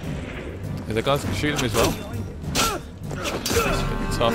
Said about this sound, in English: Some guys definitely shooting at me.